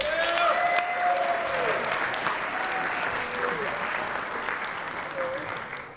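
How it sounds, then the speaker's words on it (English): An audience at a school honor band concert breaks into loud, sustained applause, dense clapping that fills the room and slowly tapers, with a few whistles and voices mixed in. "Can we give them a round of applause?"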